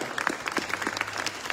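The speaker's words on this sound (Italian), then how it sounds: "Tanto un super applauso per tutti quelli che hanno lavorato" Crowd applause in a museum cloister in Mestre at an exhibition opening, dense overlapping clapping from many hands at moderate volume, with a faint low hum underneath.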